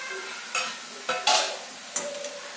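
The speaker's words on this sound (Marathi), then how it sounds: "आणि व्यवस्थित असं मिक्स करून घ्यायचं आहे" Semolina stirred with melted sugar and beetroot in a hot pan: a few scraping strokes of a spoon against the pan over a soft, steady sizzle, close and moderately loud.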